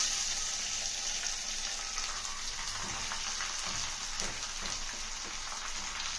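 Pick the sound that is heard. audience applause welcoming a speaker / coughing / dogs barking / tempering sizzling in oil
tempering sizzling in oil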